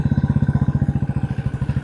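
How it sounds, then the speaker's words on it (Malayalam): A motorcycle engine chugs with a fast, even pulsing beat, close and loud, while riding a forest road in the evening; no talking. "കാട്ടിൽ കൂടെ ഒറ്റയ്ക്ക് ബൈക്ക് ഓടിക്കുന്നു 6-7 മണി സമയത്ത്."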